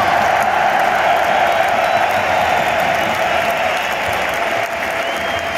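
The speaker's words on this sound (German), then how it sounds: "Und auch Applaus an unsere 25" Bayern Munich stadium crowd at a Champions League match against Paris Saint-Germain applauding substitute Thomas Müller: a vast, continuous roar of clapping and cheering that holds steady throughout, dipping slightly near the end.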